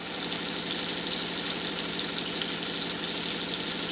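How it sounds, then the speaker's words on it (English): Butter melts in a pan with a steady, even sizzle and hiss that holds at the same level throughout, close and unbroken, with no talking. "melt a little butter in the pan"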